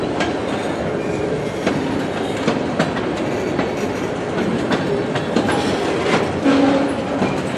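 An eastbound freight train rolls past close by on the tracks at Emmett, Michigan, with steady loud rumble, rhythmic clickety-clack of wheels over rail joints and occasional brief wheel squeals, alone without talk.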